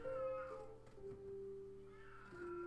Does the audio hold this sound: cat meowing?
yes